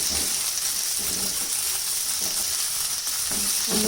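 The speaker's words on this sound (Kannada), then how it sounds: "ಒಂದು 2 to 3 ಮಿನಿಟ್ಸ್ ಈ ಥರ ನಾನು ಎಣ್ಣೆಯಲ್ಲಿ ಫ್ರೈ ಮಾಡ್ತಾ ಇದ್ದೀನಿ" Eggplant frying in hot oil, a steady dense sizzle that holds loud and even throughout with faint low clatters from stirring underneath; no voices.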